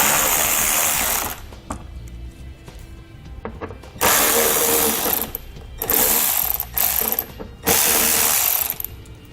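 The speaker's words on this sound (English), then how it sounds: "Take an 8mm socket and pull those out." Ratcheting with an 8mm socket loosens splash shield bolts on a 2018 BMW 3 Series: loud, close bursts of rapid pawl clicks, several in a row, separated by quieter gaps of handling noise.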